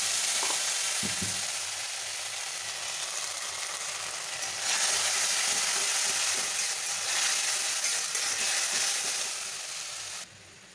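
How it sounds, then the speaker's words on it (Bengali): A paste of garlic, ginger and tomato sizzles and fries in hot oil, a loud, continuous crackling hiss that swells midway and is briefly stirred, then cuts off near the end. "এখানে রসুন আদা আর টমেটো পেস্ট করে রেখেছি এটা দিয়ে দিলাম"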